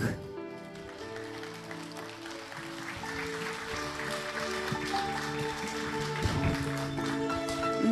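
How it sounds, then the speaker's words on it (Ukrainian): An audience applauds at a live Ukrainian folk concert, a steady clatter of clapping running under a host's voice. "Ваші бурхливі оплески"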